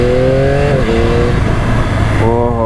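A 2025 Yamaha YZF-R9 motorcycle engine revs hard and loud, its pitch climbing, dropping sharply at a quick-shift near the middle, then climbing again in a new gear, with continuous wind and road roar underneath.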